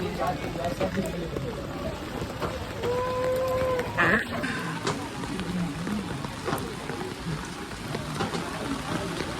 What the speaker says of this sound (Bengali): বৃষ্টিটা আবার জোরে এসে গেল